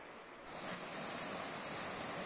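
The flooded Palmiet River rushes in a dense, steady roar of churning water that swells slightly after the first half-second and stays loud and continuous.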